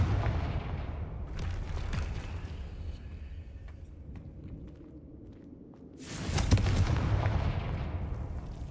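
A Confringo fire spell in Hogwarts Legacy bursts at the start and again near the end as loud crackling blasts, with a quieter stretch of game ambience and small clicks between.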